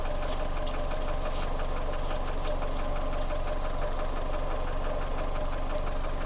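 Fiat 500 engine idling steadily with a low, even rumble and a faint ticking knock, close and unchanging throughout with no talking; the car is leaking coolant.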